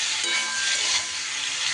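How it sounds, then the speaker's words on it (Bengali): Spices with turmeric powder and salt stirred in a hot frying pan, giving a continuous close sizzle and hiss with soft stirring underneath. "এইবার সব কিছু একটু সুন্দর করে নাড়িয়ে নেব।"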